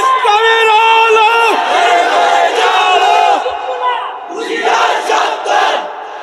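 A large crowd at a religious sermon gathering roars a loud unison chanted response, and the massed voices hold strong for several seconds before a second, rougher burst of shouting follows.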